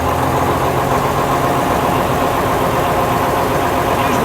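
A 1956 Daimler double-decker bus engine idles steadily, a loud, close, even diesel rumble heard from inside the vehicle with no talking.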